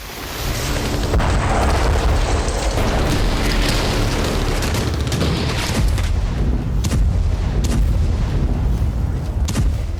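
Russian bombardment in Ukraine produces loud, continuous rumbling booms and blasts that overlap without a pause, with sharper crackling bursts toward the end.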